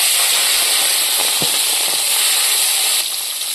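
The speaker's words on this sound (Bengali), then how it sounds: "তেলটা গরম হয়ে গেছে, আমি এখন মাছগুলো দিয়ে দেব।" Prawns dropped into hot oil in a pan give a loud, close, broadband hissing sizzle that holds steady, then eases slightly near the end, with no voices.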